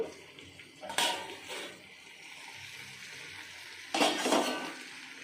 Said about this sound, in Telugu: మూత వేస్తున్నానండి